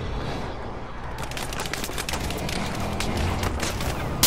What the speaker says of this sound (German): Ja, yeah, wir werden beschossen